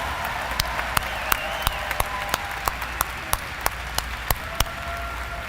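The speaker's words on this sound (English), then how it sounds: "if we can give these little ones a big round of applause" A crowd at a secondary school commencement ceremony applauds continuously for young dancers, a broad wash of clapping with sharper individual claps standing out at regular intervals.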